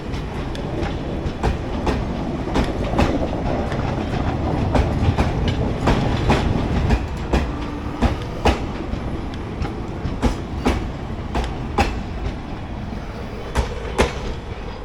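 The 14088 Runicha Express, running from Jaisalmer to Delhi, rolls along with a loud continuous rumble and a rhythmic clickety-clack of wheels over rail joints that grows sharper and more evenly spaced toward the end.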